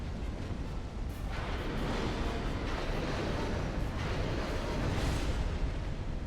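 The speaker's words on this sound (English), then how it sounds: "Watch out for an explosion there." A loud, sustained rumble fills the whole stretch, with broad bursts and swells like repeated blasts and fiery eruptions from the Smelter Demon boss fight in Dark Souls 2, steady and dense throughout with no talk.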